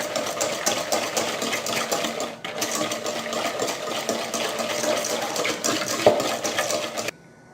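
An electric mixer beating cream makes a steady whirring drone for about seven seconds with faint scraping underneath, then cuts off abruptly.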